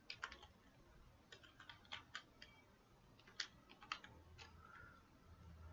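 Keystrokes on a computer keyboard while entering login code, quiet irregular clicks in short bursts with gaps between them, close and alone.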